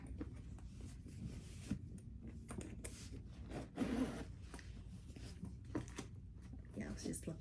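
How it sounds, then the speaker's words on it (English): Zipper on a small Gucci Ophidia camera bag is pulled, giving a run of faint, close raspy scrapes and rubs with a slightly louder pass near the middle, very quiet overall. "This is a good zipper too"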